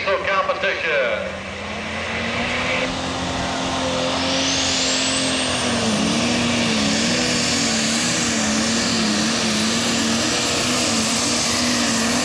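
A Super Stock diesel pulling tractor roars at a truck and tractor pull, its engine a loud, sustained drone with a rising whine, while an announcer talks over it.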